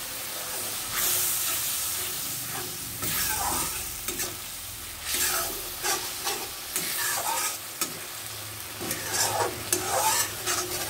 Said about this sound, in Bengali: এবার ভালো করে সাঁতলে নেব।